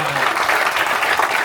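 A brief, even burst of audience applause at a book launch, many hands clapping together in a room.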